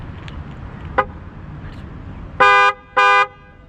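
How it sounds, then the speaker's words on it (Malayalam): Two loud electric car horn honks in quick succession, each about a third of a second, sharp and close, over faint background hum, from an aftermarket horn fitted to a third-generation Maruti Suzuki Swift. "റോഡ്സിൻ്റെ ഹോൺ നമ്മൾ ആഡ് ചെയ്തിരിക്കുന്നത് ഇലക്ട്രിക് ഹോണാണ്."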